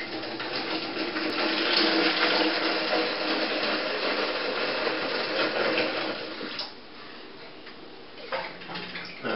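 Apple wine mixture poured from a sanitised jug through a funnel into a demijohn, a continuous close splashing gurgle that runs steadily for several seconds, then thins and trickles near the end.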